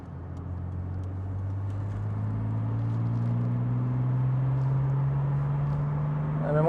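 A 1982 BMW E28 engine is heard from inside the cabin while driving: a steady, fairly subdued drone that climbs gradually in pitch as the car accelerates, with road noise underneath.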